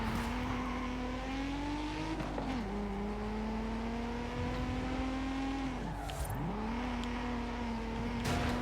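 A stock Nissan 300ZX twin turbo in Forza Horizon 5 droning steadily at high revs, pitch dipping and rising again with gear shifts and throttle lifts, loud and close with no talk.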